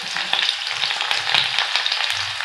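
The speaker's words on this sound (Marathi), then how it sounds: "आणि आता त्यामध्ये आपण घालणार आहोत लसूण" Plenty of crushed garlic cloves frying in hot oil in a kadai for chavli bhaji, a steady, close, bright sizzle with light crackles and stirring, no voices.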